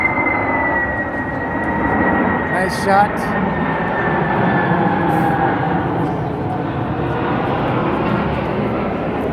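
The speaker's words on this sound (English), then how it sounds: "There's a plane coming in." A fixed-wing airplane comes in to land over Mexico City, a steady, loud roar with a slowly falling whine that fills the whole clip, while a person briefly speaks over it.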